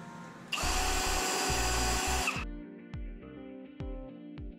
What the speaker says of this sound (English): We'll go ahead and use our large drill bit to go ahead and find the centers.